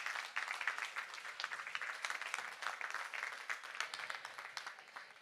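An audience claps for a team at a Relay for Life opening ceremony in Rixensart, with several seconds of steady, dense applause from a crowd at moderate distance.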